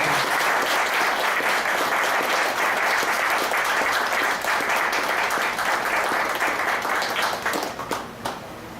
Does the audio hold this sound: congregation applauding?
yes